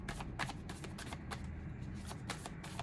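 Tarot cards are shuffled and drawn close by, giving a quick run of soft papery riffles and flicks with no talking.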